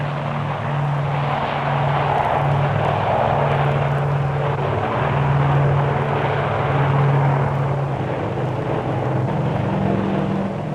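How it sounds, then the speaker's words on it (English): A Grumman Tracker, a twin-engine propeller anti-submarine plane, takes off from the Majestic-class aircraft carrier HMCS Bonaventure with a loud, steady engine drone and propeller hum that holds strong and close throughout. "the tracker can also get airborne easily without using the catapult."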